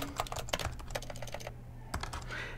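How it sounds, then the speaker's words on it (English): Keystrokes on a computer keyboard as a name is typed into an electronic consent form, a quick run of close clicks with a brief pause before the tapping resumes. "then you would type your name, and you've got an electronic signature there"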